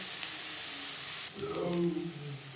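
Onions and green chillies fry in a pan, a steady hiss that steps up and grows busier halfway through as ingredients shift in the oil, with no talking.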